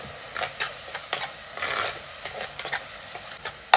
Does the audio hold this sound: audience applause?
no